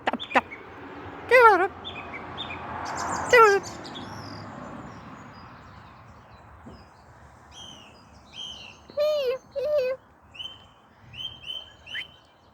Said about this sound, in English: Now what is that bird?